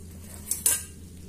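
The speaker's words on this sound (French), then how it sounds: "Je vais mélanger tout ça." A spoon stirs cornstarch, vanilla sugar and cocoa in a pot, giving two quick metallic clinks against the side over a quiet background, with no voices.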